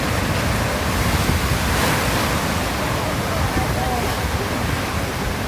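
Ocean waves breaking at a seaside swimming pool, a loud, continuous rushing surf with steady wash and wind-like noise throughout.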